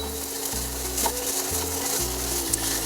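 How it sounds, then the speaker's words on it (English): Onions, carrots, celery and garlic sauté in a pan over medium heat with a close, continuous sizzle and scraping of a utensil, with a low rhythmic hum underneath. "Saute that for a few minutes at medium heat"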